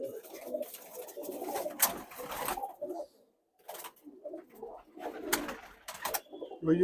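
Soft, low coos from Pulsar-line pigeons repeat in bursts with a brief quiet gap, mixed with rustling and other birds nearby.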